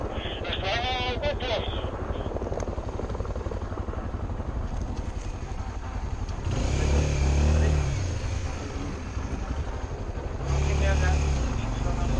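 A motorcycle engine drones and revs as it passes, rising louder twice, while people talk over the steady engine noise.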